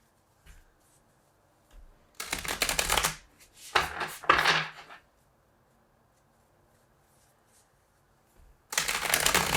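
Tarot cards being shuffled by hand during a reading, heard close as a few separate bursts of riffling and flicking with quiet pauses between them, and no talking over it.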